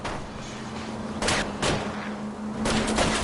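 Gunfire aimed at a car's wheels during a chase in the video game L.A. Noire, a few sharp bursts of shots, loud and close, over the steady rumble of a moving car.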